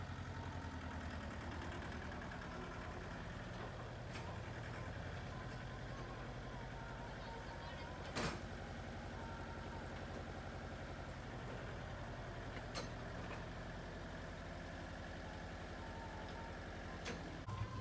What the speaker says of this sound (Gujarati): આ પાવડાવાળું ટ્રેક્ટર છે, જોઈ લો.